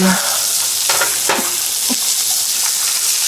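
Onions sizzle loudly and steadily in a pan, with a few scraping stirs breaking through the dense, close hiss.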